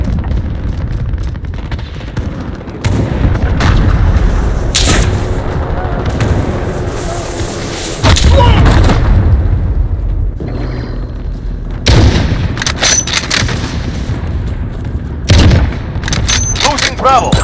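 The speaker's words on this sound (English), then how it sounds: "Enemy cruise missile, take cover. Allied cruise missile launched." A cruise missile strike lands during a Modern Warfare Ground War match, bringing heavy booming explosions and rolling artillery-like blasts with bursts of gunfire, loud and sustained throughout, mixed with in-game voice callouts.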